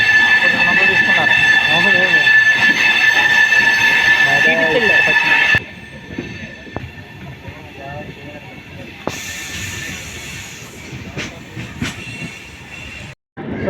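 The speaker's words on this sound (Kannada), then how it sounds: "ಸೊ ನಮ್ಮ ಗೋದಾವರಿ ಸೂಪರ್ ಫಾಸ್ಟ್ ರೆಡಿ ಇದೆ, ಅಲ್ಲೇ ಪ್ಲ್ಯಾಟ್ಫಾರ್ಮ್ ಮೇಲೆ ಇಟ್ಬಿಟ್ಟಾರೆ" The Godavari Superfast Express rumbles and clatters loudly with a hissing, squealing edge, then drops to a quieter running rattle and scattered knocks, with voices faintly present.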